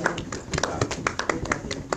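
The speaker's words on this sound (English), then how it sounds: "Round of applause for Mr. Burke and all of his wonderful student members" Students in a classroom clapping for their teacher, a brief run of sharp, uneven handclaps close by, with some voices underneath.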